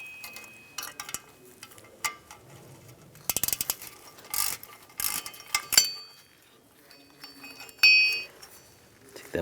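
An 8mm socket on a ratchet works a brake bracket bolt on a 2007-2014 Cadillac Escalade, giving irregular close clicks and metallic clinks in short bursts separated by quiet gaps.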